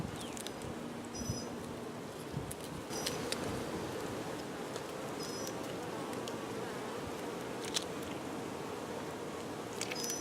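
Honey bees from Hive 9 hum in a dense, steady swarm around the open hive during an inspection, with a continuous close drone and occasional louder passes of individual bees.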